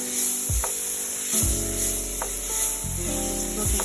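Onions and garlic sizzle gently in a pot over medium-low heat, a steady close frying hiss with several sharp clinks and scrapes of a utensil against the pot.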